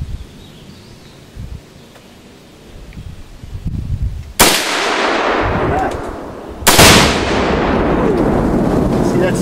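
Two loud gunshots from a Saiga AK-pattern rifle fitted with a short vertical grip, each a sharp crack with a long rolling echo, spaced about two seconds apart after a stretch of quiet outdoor background.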